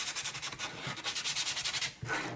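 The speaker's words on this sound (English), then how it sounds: "I'm going to take the rough sandpaper, and I'm just going to distress it around the edges." Rough sandpaper scrubs in quick, rhythmic back-and-forth strokes along the painted edges of a garland piece, close and fairly soft, with a brief pause near the end.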